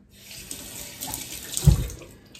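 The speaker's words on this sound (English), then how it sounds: "So let's wash the hands." Water runs steadily from a kitchen tap while hands are washed, a continuous splashing hiss with a brief louder gush near the end, close by and alone.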